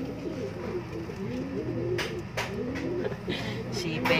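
A homing pigeon hen coos in a loft, soft repeated low warbling calls running steadily throughout, with someone talking over them and brief rustles and faint clicks now and then.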